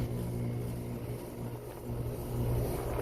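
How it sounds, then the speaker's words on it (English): A Rheem air conditioner fan motor runs as a steady low hum and rumble, loud and unbroken for the full few seconds with no talking. "Oh, but there goes the fan motor."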